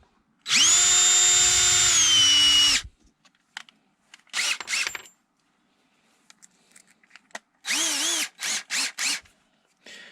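A power drill bores holes into a Freewing F-14 foam model jet to fit a carbon rod: one long whining burst, then a few brief stuttering bursts and a cluster of short pulses, close and loud.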